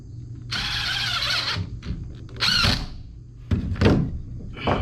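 A cordless drill drives two screws into short 2x4 boards, with whirring bursts of a few seconds each, squeaks and ratcheting clicks, and a short pause between them, heard close up.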